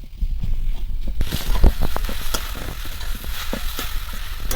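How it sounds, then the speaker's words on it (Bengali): Onions frying in a pan with moringa and water spinach greens and green chilli, a loud steady close sizzle that jumps up as the food is stirred, with scraping utensil strokes throughout. "এবার পেঁয়াজটা একটু হালকা করে এখানে ভাজা ভাজা করে নিচ্ছি"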